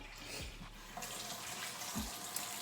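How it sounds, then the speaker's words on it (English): Tap water runs steadily into a kitchen sink while hands are washed, a close continuous hiss with soft splashing changes as the hands move under the stream. "So I'm wash my hands again."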